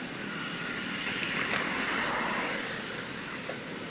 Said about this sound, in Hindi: बारिशों के पानी से पूरा घग्गर नदी भर गया है।